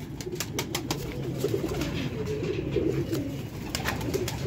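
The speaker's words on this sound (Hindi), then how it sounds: "8वें नंबर का दोस्तों कबूतर है तुहाडे सामने" Pigeons coo softly and repeatedly in a loft, low rolling calls close by, with light rustling and clicks around them.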